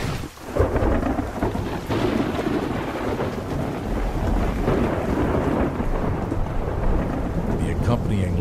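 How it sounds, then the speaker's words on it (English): Thunderstorm with heavy rain, a loud low rumble of thunder rolling over a dense, steady rain wash that continues throughout. "At any given moment, hundreds of storms are occurring somewhere around the world."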